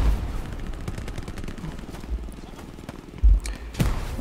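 In the World War II game Hell Let Loose, machine gun fire rattles in rapid bursts with a few heavier thuds from grenades, all in the middle distance under steady battlefield noise.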